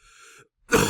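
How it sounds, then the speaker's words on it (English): A man coughs and clears his throat after choking on a cough drop: a short, low rasping clearance, a brief pause, then a loud, harsh burst close by. "And then he swallows and chokes on his cough drop."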